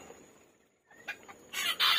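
A young hen gives a few short, soft clucks close by, rising to louder chattering calls at the end over faint background hiss.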